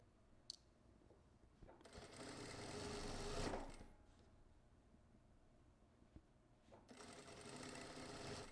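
Sewing machine stitching the side seam and sleeve seam of a garment, two close bursts of rapid whirring stitching separated by quiet pauses and small clicks.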